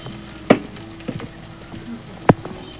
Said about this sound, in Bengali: কাঁচা লঙ্কাগুলো তেলের মধ্যে দিয়ে দিচ্ছি।